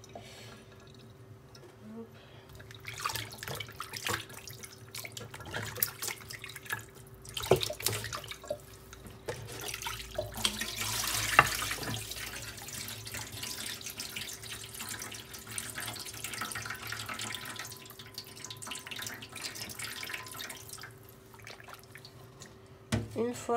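Tap water runs steadily into a sink while something is rinsed under the stream during cooking prep, with a continuous splashing hiss and occasional louder surges and clatters, fairly close and otherwise alone.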